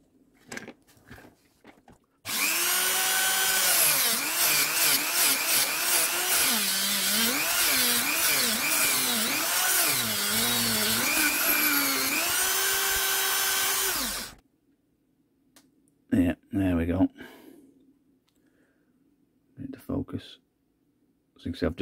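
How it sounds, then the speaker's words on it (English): A Dremel rotary tool whines loudly and steadily for about twelve seconds as it cuts an extruder part on a clone Bondtech BMG, its pitch dipping and rising under load, then stops, with brief speech before and after. "So I'll do that with the Dremel"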